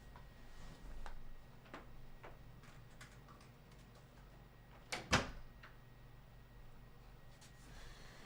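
An indoor door is pushed shut with a single sharp thud partway through, surrounded by faint ticks and light room noise.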